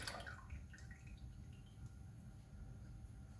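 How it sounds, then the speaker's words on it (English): Milk poured into a pot for making cheese, a faint, steady liquid trickle and splash with a few small drips, close but quiet and with no voices. "So, in goes the milk,"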